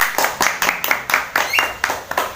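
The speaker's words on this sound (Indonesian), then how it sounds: "Tepuk tangan semuanya." A class claps for a group presentation, the bursts of clapping coming in uneven waves, fairly close, with a teacher's voice cutting in between.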